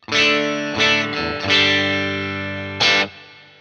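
A second-hand electric guitar with its two pickups combined gives a strange, harsh distorted tone, playing a few loud, close chord stabs with sustained ringing between them and no talking.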